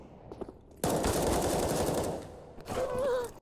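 Video game gunfire erupts as one loud, sustained burst of rapid automatic shots for about two seconds, then fades, followed by a brief second burst with a whining tone.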